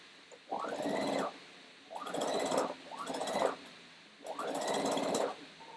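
Sewing machine stitching a seam of a hat in four separate bursts, each a steady rapid whir lasting about a second, with short pauses between them.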